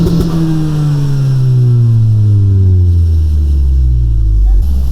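A modified Honda Civic Si hatchback with a Type R exhaust revs up close, producing a deep, loud engine drone that falls as it settles back toward idle, with a sharp rise again at the end.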